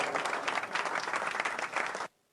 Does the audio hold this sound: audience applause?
yes